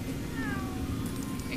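A cat's meow in Lego Harry Potter Years 1-4, short and mid-distance, riding over a steady low in-game hum with a brief chirp near the end.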